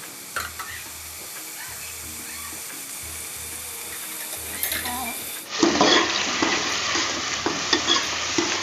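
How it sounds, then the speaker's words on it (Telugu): Sliced onions and green chillies sizzle in a pan while a spoon stirs with intermittent scraping clinks, the frying growing louder and brighter in the second half. "తర్వాత మనం ఆనియన్స్ వేసుకొని పచ్చిమిర్చి వేసుకొని బాగా కలుపుకోవాలన్నమాట."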